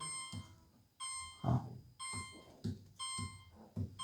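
Repeated electronic beeping from an LG refrigerator's temperature alarm, freezer not yet at -18, a steady high tone pulsing at a regular pace, with handling thumps underneath.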